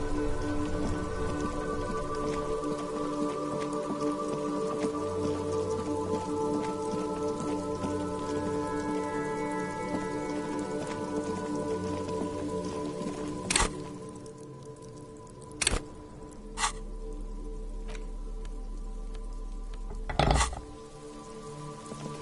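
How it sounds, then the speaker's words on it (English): Steady rainfall in a video game forms a dense, continuous patter, broken near the end by a few sharp cracks and a low rumbling drone. "This rain will not let up anytime soon."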